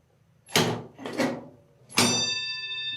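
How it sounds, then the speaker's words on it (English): An old mechanical doorbell in a historic doctor's house rings with three sharp metallic strikes, the last one leaving a long, bright ringing tone that keeps sustaining, close and loud. "We gotta ring the bell, Jim."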